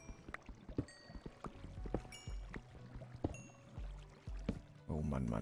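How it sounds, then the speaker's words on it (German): Minecraft bucket scooping up water, a few short splashy liquid sounds and a gurgling fill near the end, mixed with game clicks and background music. "Dann hole ich mir mal ein bisschen Wasser."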